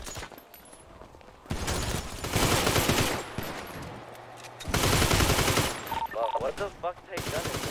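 Rapid automatic gunfire in a video game, loud and sustained in long bursts with brief gaps, with voices talking over the shooting.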